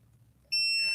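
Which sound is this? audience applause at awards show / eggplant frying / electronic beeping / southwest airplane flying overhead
electronic beeping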